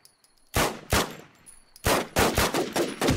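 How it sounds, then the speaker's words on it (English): Loud bursts of gunfire in the video game The WarZ ring out up close as separate shots and quick volleys, with short gaps of quiet between them. "He's shooting me."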